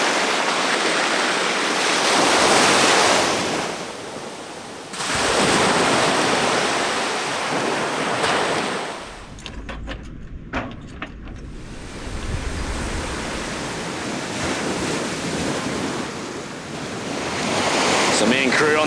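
Ocean waves breaking on a beach along the Indian Ocean, loud roaring surf in repeated long washes with a quieter lull midway, no voices.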